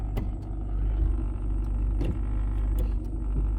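A car rolling down the road on a test drive after a brake fluid leak repair, with a steady loud engine and tyre rumble broken by a few soft knocks and rattles, and no voices.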